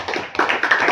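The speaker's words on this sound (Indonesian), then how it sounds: "Oke, tepuk tangan dong untuk" Children in a classroom clap their hands in a short, close burst of a few uneven claps lasting about a second.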